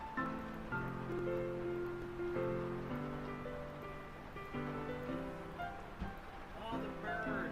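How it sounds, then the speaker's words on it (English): Steady rain patters and hisses across the whole stretch as a constant wash of noise, with sustained tonal sounds and speech weaving through and over it. "The rain is drowning him out!"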